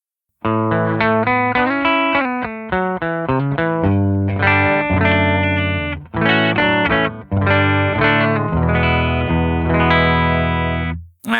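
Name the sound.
clean electric guitar through amp plugin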